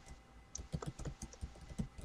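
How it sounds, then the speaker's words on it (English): Several people type on computer keyboards during a live online group hangout, giving a quick, irregular patter of close, crisp key clicks with no talking. "when I do that, you hear us all typing away."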